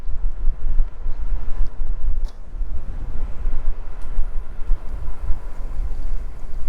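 Heavy wind noise buffets the microphone while riding an AIMA Santa Monica e-bike outdoors, a loud continuous low rumble that rises and falls in gusts with no talking.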